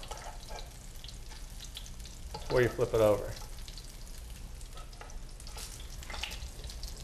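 Breaded food sizzles and crackles steadily in hot oil throughout, with a person speaking briefly partway through.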